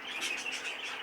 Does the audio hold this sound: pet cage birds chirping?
yes